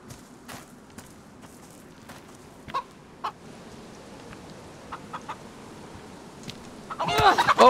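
A chicken in the survival game DayZ, heard as a burst of loud clucking close by at the end, after quiet footsteps and a few scattered soft sounds.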